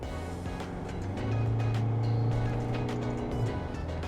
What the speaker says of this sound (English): at those times, the engine does unfortunately get quite loud